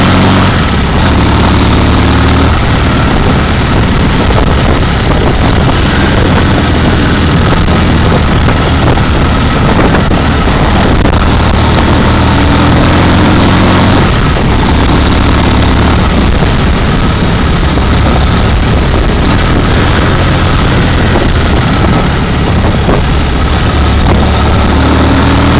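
A Royal Enfield Constellation motorcycle rides on a mountain road, its engine drone blended with heavy, constant wind rush throughout.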